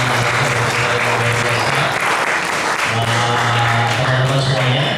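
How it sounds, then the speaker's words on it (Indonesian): Audience applause at an Islamic seminar on the dangers of online gambling, dense continuous clapping from a crowd filling the hall, loud and sustained, with a low hum running beneath. "boleh tepuk tangan buat tiga"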